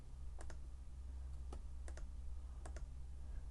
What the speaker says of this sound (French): je vais cliquer comme ça à chaque fois sur Supre avec le bouton du clavier